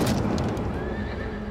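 A horse whinnies loudly in a jousting sound effect, with a dense, noisy rumble of hooves and commotion running throughout the short burst.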